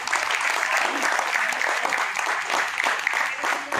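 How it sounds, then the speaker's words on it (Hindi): A crowd at a Mumbai community event for senior citizens, held with the North Region police, breaks into dense, loud, sustained clapping that fills the space evenly from start to finish. "मेरी मैडम के लिए बहुत तालियां"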